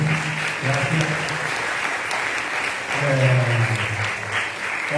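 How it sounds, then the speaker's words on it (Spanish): Audience applause for a professor at a literary talk with a Dominican writer: a steady, fairly loud wash of clapping throughout, with a voice speaking over it in places. "Un aplauso para el profesor, para Joan."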